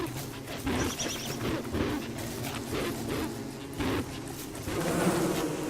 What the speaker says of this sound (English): We can get the bees to attack them.